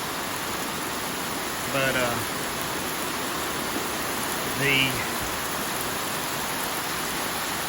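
A heavy rain downpour falls over an open field in a dense, steady hiss, with someone speaking briefly twice over it.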